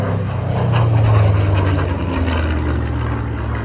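A PRU Spitfire making a belly pass at the Warbirds Over Wanaka airshow, its engine droning loud and steady throughout, swelling slightly mid-pass and then holding a rough continuous roar with no talk.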